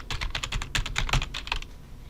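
Rapid keystrokes on a computer keyboard as login details are entered for an Office 365 OneDrive sign-in, a close, steady burst of clicks lasting about a second and a half before stopping.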